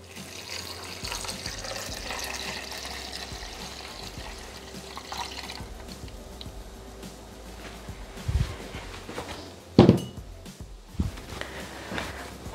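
Water poured from a jug onto rinsed oat flakes while making oat milk, a steady splashing rush running for several seconds before a few louder knocks and clunks near the end, with no voices.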